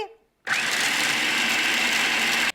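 A food processor runs on high, blending pesto made with garlic and salt. After a brief quiet start the motor kicks in with a loud, steady whir that holds evenly for about two seconds, then cuts off.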